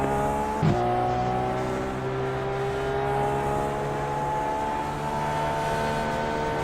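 Dallara DW12 IndyCars in the iRacing sim at Chicagoland keep up a steady high engine whine with shifting pitch, and a brief louder burst as a car passes early on, continuous and fairly loud.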